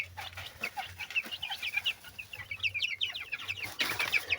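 Young hens in a backyard flock cluck and peep steadily at close range, in quick overlapping chirps with a low hum underneath, and the chatter gets louder near the end.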